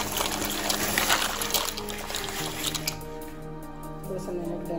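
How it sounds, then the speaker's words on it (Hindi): Dry pasta tipped into a pan of heated water on a home stove for creamy white sauce pasta, a wet splashing and gushing that fades after a few seconds into quieter bubbling. "अभी हम इसमें पास्ता डालेंगे।"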